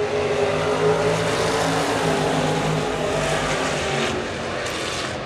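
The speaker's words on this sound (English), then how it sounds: "Justin Regnerus leads the field into turns 1 and 2." Stock cars racing into turns one and two at Park Jefferson Speedway: a loud, continuous roar of many engines close by, easing slightly toward the end.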